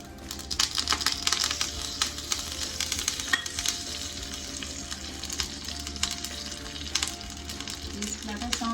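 Mustard seeds and curry leaves sizzle and crackle in hot oil in a pan while a pachadi is being made. The frying is a close, continuous hiss broken by sharp pops for the whole clip.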